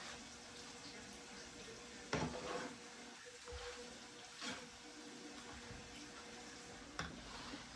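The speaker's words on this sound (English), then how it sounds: "go ahead and finish grilling them up" Burgers topped with cheese sizzle and fry on a grill, a steady low crackle with a few sharper pops and hisses close by, no talking.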